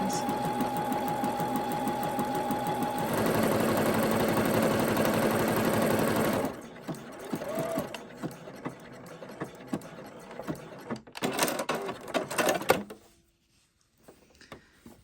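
A sewing machine running a zigzag stitch along a fabric seam, a fast steady mechanical whir for about six seconds, then shorter bursts of stitching with pauses and clicks before it stops.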